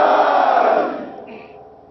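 A large crowd at a Pakistan Muslim League (N) rally in Nagar Khas, Gilgit-Baltistan, roars a political slogan in unison: one loud, close, massed shout that holds for a moment and then fades away.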